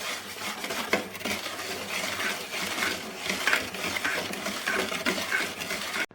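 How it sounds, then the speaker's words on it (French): Spoon stirring an almond paste cake mixture in a bowl, a steady scraping and clinking texture with small knocks, close and continuous for several seconds with no talking. "Je mélange."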